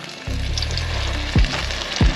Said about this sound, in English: when you're frying fish